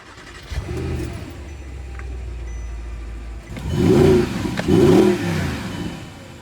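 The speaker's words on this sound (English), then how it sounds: "could you rev the car? Yeah, sure, let me start it. It's not super loud" Audi R8 engine starting and idling with a low, steady rumble, then two strong revs that swell and fall back, heard close by with no talking.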